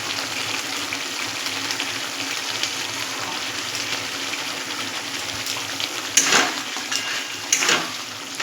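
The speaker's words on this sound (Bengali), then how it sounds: "একটু জল দিয়ে গুলিয়ে আমি এই কড়ার মধ্যে দিয়ে দেবো" Water mixed with spices is poured into a hot kadai of soybean gravy and stirred, producing a steady loud frying hiss with a couple of splashing, clattering stirs near the end.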